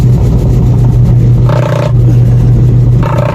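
Repaired washing machine drum spinning fast, a loud close steady motor hum with a droning whir that swells in two short surges, no voices.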